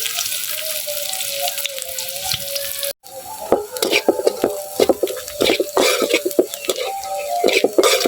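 Hot oil sizzles loudly in a pan while cooking egg and potato curry. After a brief break, sharp crackling and spattering pick up again, joined by light clatter of a utensil against the pan.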